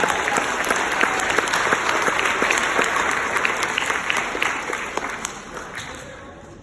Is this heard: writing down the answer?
no